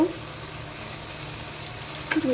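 Vegetables and freshly added tomatoes sizzle steadily in a pan during frying. A soft, continuous hiss runs through the whole stretch, and a brief scrape of stirring comes near the end.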